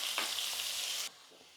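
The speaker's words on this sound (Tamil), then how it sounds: "வெங்காயம் கொஞ்சம் நல்லா வதங்கட்டும்." Chopped onions with a pinch of asafoetida sauté in hot oil in a pan as a Tamil tempering, giving a loud, steady sizzle that cuts off abruptly partway through, leaving quiet room sound.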